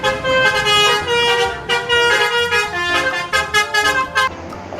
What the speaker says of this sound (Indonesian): Yang ini ada mobil bus telolet Basuri.